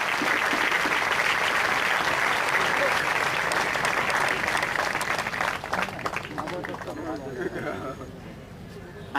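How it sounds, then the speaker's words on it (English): Audience applause fills an engineering college event hall, steady clapping from a crowd that continues for several seconds before gradually thinning out and fading. "Give a big round of applause."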